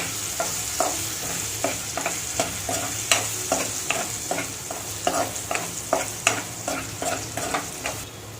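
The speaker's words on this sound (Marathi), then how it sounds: "गरम मसाला, थोडं परतून घेऊ." Garam masala and turmeric stir-fried in a pan for a Marathi ridge gourd bhaji: a spatula scrapes in steady rhythmic strokes, about two per second, over a constant close sizzle, with no talking.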